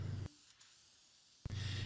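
Deft lacquer hisses out of an aerosol can onto a small solid cherry bookcase project in short, close bursts, each spray a bright rushing hiss with a quieter pause between.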